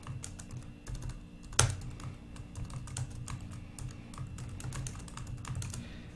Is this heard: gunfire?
no